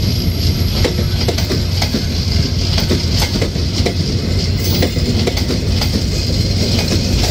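Rupsha Express, running with PT Inka 16 model coaches, rolls into a Bangladeshi station with loud, continuous clickety-clack of wheels over rail joints, brief wheel squeals and a heavy rumble, with no voices.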